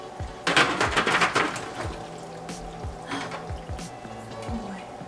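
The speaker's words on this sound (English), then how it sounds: "we are going to pour this into the tray" A thick spinach mac and cheese mixture being poured and scraped into a tray, a close run of wet plops and squishes with a few soft clanks.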